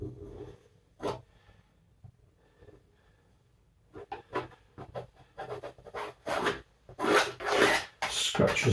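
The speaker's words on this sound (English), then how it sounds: "Scratches and scrapes." A brush and its handle scratch and scrape across oil paint on canvas during a landscape painting, quiet at first and then growing into loud, close, repeated raspy strokes with no voices.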